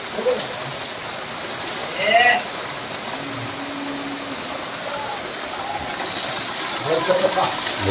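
First monsoon rain of the season falls in the Konkan region as a steady, even patter and wash of drops, with faint voices talking in the background.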